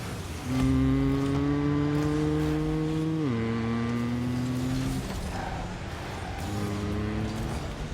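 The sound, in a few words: players imitating car engine sounds in voice-powered video game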